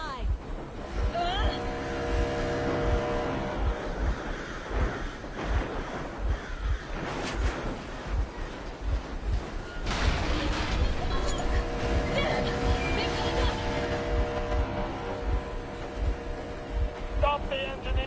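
A vehicle engine runs steadily in Metro Exodus, a loud continuous rumble with shifting tones and some clanks, a voice talking over it part of the time.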